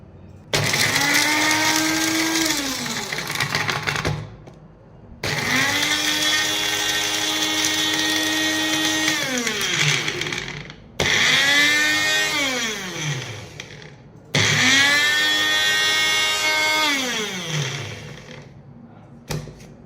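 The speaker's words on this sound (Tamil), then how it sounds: "இப்போது தண்ணி எதுவும் ஊற்றாமல் நல்லா பிளெண்ட் பண்ணி எடுத்துக்கலாம்." A blender grinds garlic without water, loud in four long bursts, its motor pitch rising and falling as each run spins up and winds down, with short pauses between.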